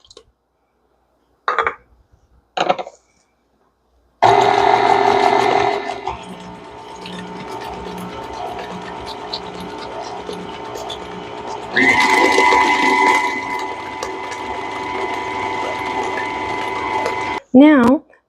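An electric stand mixer whirs steadily as vanilla extract and two eggs are beaten into chocolate Andes mint cookie dough, loud and close, its motor pitch shifting partway through after a few brief knocks and stops at the start.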